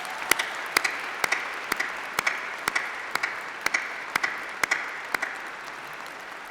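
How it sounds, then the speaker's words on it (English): Applause from a graduation ceremony audience at UCLan, heard as a steady wash of clapping with a few sharp, evenly spaced nearby claps standing out regularly above the crowd. "Please give them all a massive round of applause"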